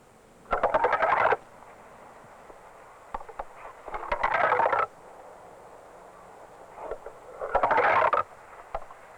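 Three bursts of rapid clattering taps, like a stick run along a row of wooden fence pickets of differing lengths, short and long, separated by quiet pauses.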